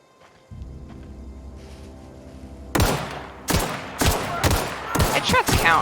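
Gunfire in The Outer Worlds video game: after a quiet low hum, a rapid string of loud, sharp shots bursts out one after another in close succession.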